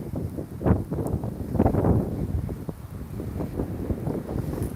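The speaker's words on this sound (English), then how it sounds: "Oh, wind. It's the only thing when you're up in the hills around here, the wind is torture." Strong gusty wind in open hills beside a reservoir, a loud continuous low rumble buffeting the microphone, rising and falling in gusts throughout with no voices.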